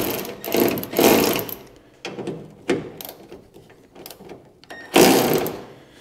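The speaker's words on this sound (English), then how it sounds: "So this just takes a 1/2-inch socket and we'll just break this loose." A socket wrench fitted with a 1/2-inch socket ratchets as it breaks loose a car hood bolt, giving several loud bursts of clicking with short pauses between them.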